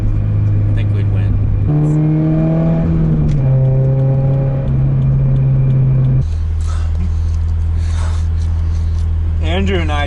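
A car revs hard and accelerates in a race against a Tesla Model S 100D, its engine tone climbing through gear changes, then dropping into a steady drone with a brief whine near the end, loud and close.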